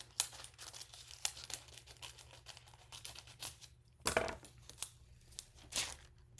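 Scissors cut through a small piece of craft foil, giving quiet crinkling and snipping with a sharper crunch near the middle. Close and soft, with no voices.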